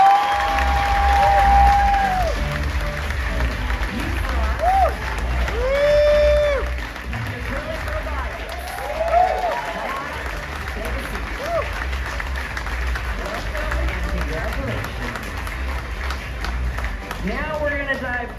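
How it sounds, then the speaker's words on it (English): An audience at a startup pitch event gives a round of applause for the top three finalists, steady clapping and some cheers heard alongside a host's amplified voice talking over it. "a huge round of applause, please, for our top 3"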